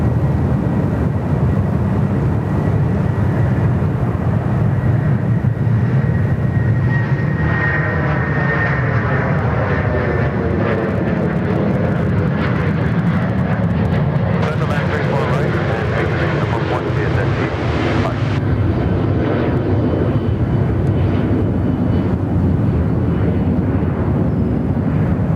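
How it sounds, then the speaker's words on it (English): An airliner departs from a runway at Sydney Airport, its loud jet roar swelling and shifting in pitch as it accelerates and climbs, with spotters talking over it. "Team Air about to depart here"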